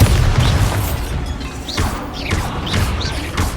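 Bombarda spell blasts in the game Hogwarts Legacy land as a run of loud booming explosions with crashing impacts, several bursts in quick succession, heard alone without talk.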